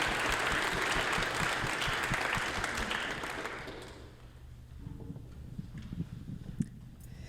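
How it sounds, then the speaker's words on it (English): A church audience at a jazz vespers service applauds with a dense, steady wash of clapping that fades out halfway through, leaving a quiet room with faint shuffling. "So please give them another round of applause."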